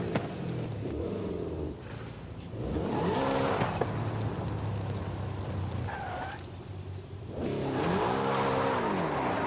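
A Porsche 718 GTS driven in Forza Horizon 5: engine revs rising and falling through gear changes, with tire squeal and a whooshing pass, loud and close.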